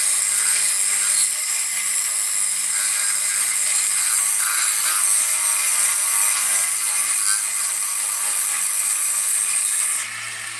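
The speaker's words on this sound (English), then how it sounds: "Just taking some 220 grit here on my Dremel." A Dremel rotary tool with 220 grit sanding through metal plating gives a continuous high-pitched grinding whir close up, steady for about ten seconds before easing off at the end.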